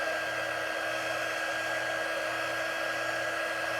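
A hair dryer blows steadily on craft pieces, a continuous close whooshing roar with a faint motor hum, running alone and unbroken.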